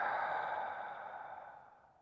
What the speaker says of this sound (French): Puis expirer